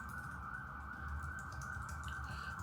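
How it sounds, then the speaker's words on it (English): A steady emergency vehicle siren wails outside in Cape Town, South Africa, holding a sustained tone at moderate distance over low traffic rumble, with no voices. "Apologies if you can hear the sirens outside."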